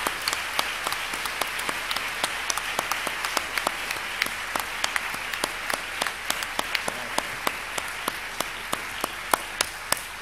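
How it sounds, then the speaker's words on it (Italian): An audience at a meeting applauds a professor, producing a sustained wash of clapping punctuated by sharp, distinct individual claps that pop out regularly above the crowd for about ten seconds. "vi prego di salutare ancora con un applauso caloroso"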